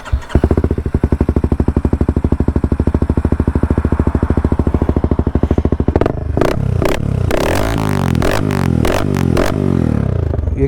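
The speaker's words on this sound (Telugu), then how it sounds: "దీనికంటే ముందు ఒక ఎగ్జాస్ట్ సౌండ్ వినిపించుకుందాము" A Honda CBR 250R sits at idle with a rapid, even exhaust pulse, then is blipped several times. Each throttle stab rises sharply in pitch and falls back, loud and close, with no talking.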